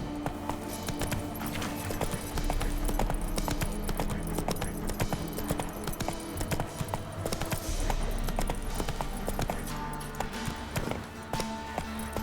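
The horse gallops in The Witcher 3 video game with rapid, rhythmic hoof clip-clops that run steadily and fairly close under light game ambience and a brief voice.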